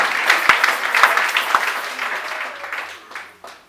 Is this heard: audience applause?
yes